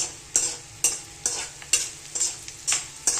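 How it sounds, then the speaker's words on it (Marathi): Edible gum (dink) fries in a pan for methi dink laddoos, a soft oily sizzle broken by a regular series of sharp scraping stirs, about two per second, with no talking. "आता हा इकडे बघा डिंक तळतोय"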